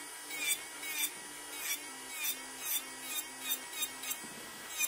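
An electric nail file sander works on a fingernail near the cuticle skin, making faint, bright buzzing bursts in a regular rhythm of short passes over a quiet motor hum.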